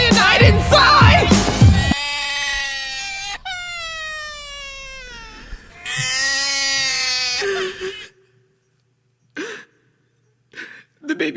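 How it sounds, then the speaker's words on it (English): Infant shrieks and wails set within a rap track, with long rising and falling cries carrying harmonics over a loud beat, then fading into a few short, fainter cries near the end. "The baby shrieks at a peak, convulses"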